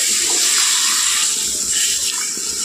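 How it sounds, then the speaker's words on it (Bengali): Water poured into a pan of ridge gourd (chichinga) curry coated in spice paste, a steady close hiss and splash lasting the whole moment, with no talk. "এখন কিন্তু জল দিয়ে দিচ্ছি"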